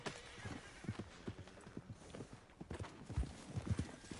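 Horse hooves in Red Dead Online clip-clop in an uneven, fairly quick rhythm on a hard surface, moderately quiet, with a faint whinny amid the steps.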